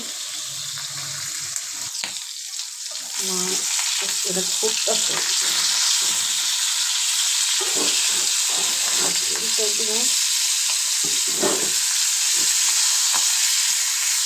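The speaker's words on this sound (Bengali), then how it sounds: "এই তো মাছটা ভাজা দিচ্ছি" Fish being lightly fried in a pan gives a steady, close hiss of sizzling oil, joined by intermittent clatter and handling sounds as someone speaks briefly over the cooking.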